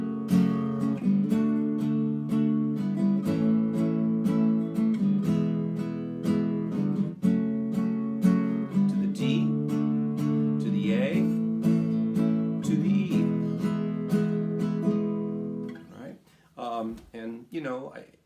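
Barre chords strummed on a guitar in a steady down-down-down-down-up pattern, each stroke sharp and close, running continuously before a brief looser passage at the end.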